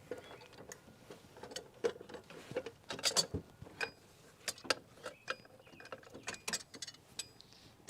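Wrench clicks and metallic ratcheting during a water pump install on a Jeep XJ, irregular ticks and clanks close by, with bursts of activity and no talk.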